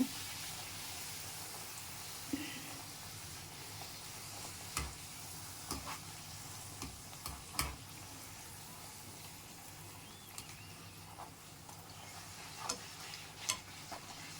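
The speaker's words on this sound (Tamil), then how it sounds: "நல்லா எண்ணெய் அது மேலே போகிற மாதிரி ஊற்றி ஊற்றி விடுங்க" Spinach puri deep-frying in hot oil, oil ladled over it: a faint, steady sizzle with soft scattered ticks and bubbling pops, quiet and close, with no voices.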